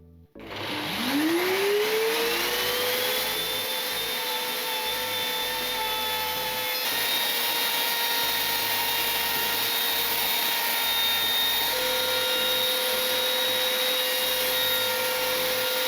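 A power router trims the edges of a wooden piece, starting with a quick spin-up whine and then running steadily as a loud, continuous tone with faint rubbing cutting noise underneath.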